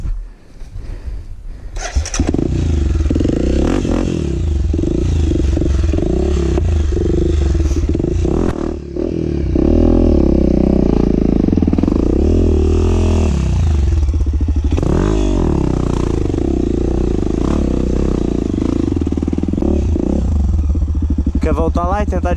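A dirt bike engine roars loud and close through a long stretch of hard acceleration on a rocky trail, dipping briefly then surging again, with clattering and scraping from the rocks beneath the wheels.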